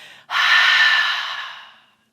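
A single long exhale during a beginner pilates exercise, a close, breathy rush that starts abruptly after a softer breath and fades gradually over about a second and a half, with no speech.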